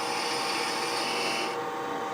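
Beading and parting tool cutting into a wooden clamshell box spinning on a lathe, a bright continuous scraping hiss that drops off sharply near the end.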